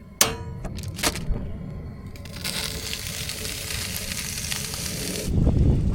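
Food wrapped in tin foil on a camping burner during a cold winter teardrop-trailer campout: a soft, steady sizzle and crackle close by, opening with a couple of sharp knocks and ending in a louder rustle.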